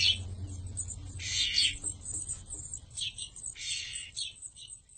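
A five-day-old chickadee in a wildlife rescue chirps in short high bursts, faint and close, with a soft low hum in the room beneath.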